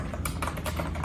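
Typing on a Pictek G20 membrane gaming keyboard with RGB lighting, a quick run of soft, muffled key presses in an uneven rhythm, close up and fairly loud, with no voices.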